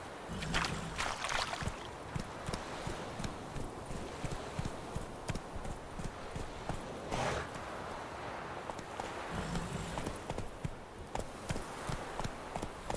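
Horse hooves clip-clop in rapid, steady rhythm as a horse gallops in The Witcher 3 Wild Hunt, a continuous fairly faint stream of hoofbeats over ambient game sound, with no talk.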